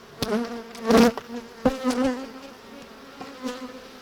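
Honeybees buzz close by at a hive in a warm, wavering drone, rising and falling as individual insects fly past, with no voices.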